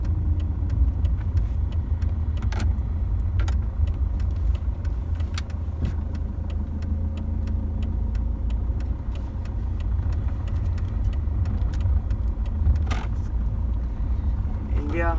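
A 2002 Mercedes-Benz C200 CDI W203 diesel drives along with a steady, close engine drone and low road rumble, while someone talks over it throughout.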